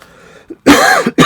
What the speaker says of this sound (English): I'm sorry if I coughed on the camera here on the video.